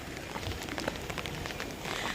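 Rain starting outdoors by a pond with ducks, a brief dense patter of drops close by, with no speech.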